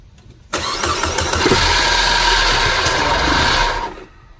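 A 2006 Saab 9-5 Turbo engine cranks briefly, then catches and runs loudly at a close, steady idle for about three seconds before the sound cuts off.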